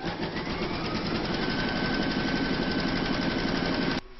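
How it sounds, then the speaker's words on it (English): An embroidery machine stitches fabric held in a hoop, giving a fast, steady mechanical chatter of needle strokes that runs loud and unbroken for about four seconds before stopping abruptly. "You're now going to pop your hoop into your machine and stitch round number two to secure it all."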